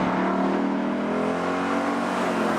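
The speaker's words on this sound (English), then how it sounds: "The engine only wants to be revved." A Ford Mustang Boss 302 driven hard, its engine holding a loud sustained roar with a steady harmonic drone from the cabin and no talking over it.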